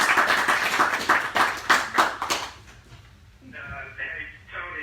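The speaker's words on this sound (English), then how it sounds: "Let's give him a round of applause." An audience at a military base change of command ceremony bursts into a short round of clapping that fades out after a few seconds, followed by a faint voice in the quiet.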